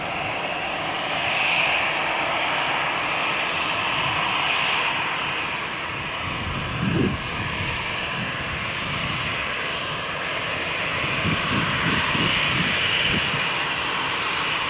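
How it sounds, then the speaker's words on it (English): An EasyJet jet airliner at Malaga Airport, bound for Berlin, gives a sustained, loud engine roar with a broad, steady rush through the whole stretch, heard from the airport on a stormy morning. "Here the EasyJet flight to Berlin"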